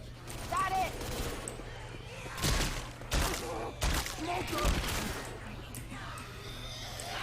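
Gunfire in the zombie shooter Left 4 Dead 2, with several loud bursts of shots among game noise while players talk over it.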